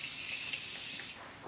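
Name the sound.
setting spray sprayed on face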